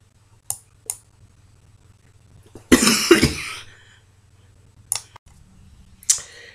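A woman coughs in one harsh, close burst of several coughs, set between a few sharp clicks and small mouth noises in an otherwise quiet room.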